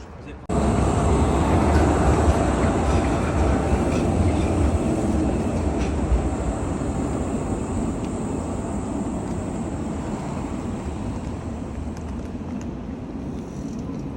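A modern tram in Prague rumbles past close by, a loud steady rolling roar with faint rhythmic clatter that holds for the whole stretch.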